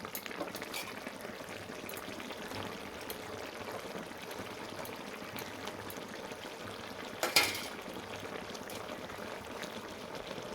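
Neem leaf fritters dropped into a simmering mixed vegetable curry give a steady low bubbling and liquid hiss throughout, with one brief louder splash or clatter near the end and no talking.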